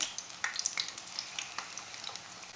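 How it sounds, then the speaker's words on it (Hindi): Batter-dipped spinach leaves fry in hot oil for crispy palak pakora, a close, crackling sizzle with sharp popping bursts throughout. "ऐसे इसे आटा लगा के इसे फ्राई कर लेंगे। ऑयल को मैंने 2 मिनट तक गर्म कर लिया। ये पत्ते इसमें डाल लेंगे।"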